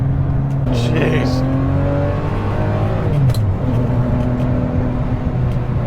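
Ferrari with an Enzo engine revs, its engine note rising and falling in pitch through several loud pulls, with a person talking over it.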